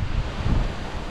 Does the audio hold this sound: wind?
yes